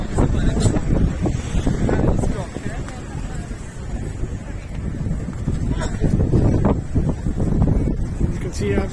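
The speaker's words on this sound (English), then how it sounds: "You can see as it's a windy day" Strong wind buffets the microphone in gusty, roaring bursts on a bridge in Paris near Notre Dame, loud and continuous, with faint voices beneath.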